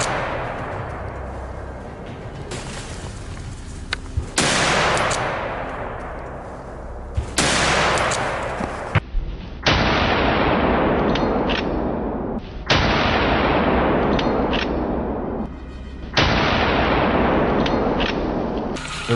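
Rapid bursts of gunfire during a wild boar hunt in woods, loud repeated volleys with sharp onsets and long ringing decays, several bursts back to back, no talk.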